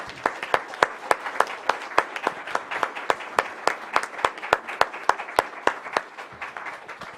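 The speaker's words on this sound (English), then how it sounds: "Now we applause." A small audience at a Lake County Board of Supervisors meeting claps for several seconds, individual sharp claps ringing out in a loose, steady rhythm that thins toward the end.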